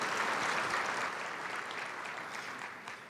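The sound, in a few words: audience applause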